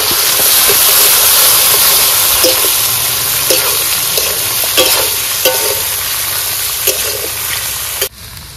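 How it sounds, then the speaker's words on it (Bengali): Prawns hit hot oil in a pan with a loud, continuous hissing sizzle, close up, punctuated by a few sharp utensil taps and scrapes before the sizzle drops abruptly at the end. "তেল গরম হয়ে গেছে, এবার চিংড়ি মাছগুলো দিয়ে দিই"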